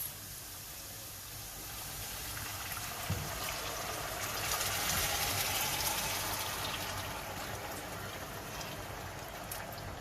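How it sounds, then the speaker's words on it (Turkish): Hot water poured steadily into a pot of sautéed rice pilaf with corn, a soft continuous splashing trickle that swells slightly midway and carries on quietly alone. "Kavurduğumuz pilavımıza 4 su bardağı sıcak su ekliyoruz."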